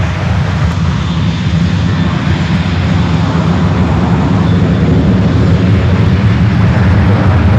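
A United airliner takes off from runway 28 left at San Francisco airport, its engines giving a loud, sustained roar that stays strong and close throughout.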